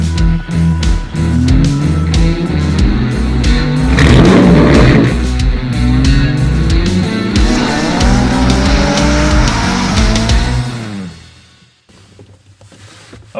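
Maserati powered by a Ferrari V8 revs hard through several rising and falling bursts, loud and close throughout, with a brief rough noisy patch midway, before the engine note drops away to a quiet idle near the end.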